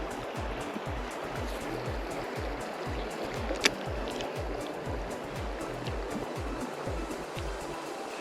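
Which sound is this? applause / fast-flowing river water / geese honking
fast-flowing river water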